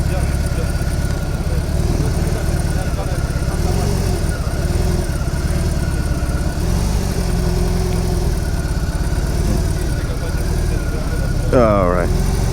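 A BMW R 18 B bagger motorcycle's big boxer engine rumbles low and steady as it pulls away in first gear, loud and close under a voice.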